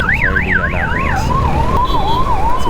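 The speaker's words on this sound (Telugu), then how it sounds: "అంబులెన్స్ వస్తుంది ఇంకా" An ambulance siren wails loudly on a city road in Hyderabad, its rising and falling tone shifting pitch as it passes close by over steady traffic rumble.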